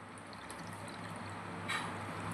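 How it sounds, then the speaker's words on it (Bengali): Milk mixed with custard powder pouring into a large pot of cooled milk, a soft continuous liquid trickle with a slightly stronger splash near the end, close and fairly quiet. "সেই মেন দুধটার মধ্যে এই যে এই কাস্টার্ড পাউডার মেশানো যে দুধটা তো ঢেলে দেব"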